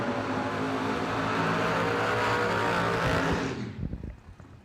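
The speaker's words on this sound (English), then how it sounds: "That was a dragster burn out there." A drag-racing dragster doing a burnout to scrub in new slicks at a bracket race event, a loud sustained roaring engine and tire howl that holds steady, then cuts off and fades.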